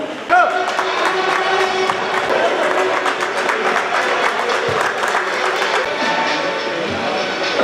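Audience applause honouring officials at a national road safety month event held at a bus depot in Nizamabad: dense, sustained clapping from a crowd, steady and loud throughout, with voices mingled underneath.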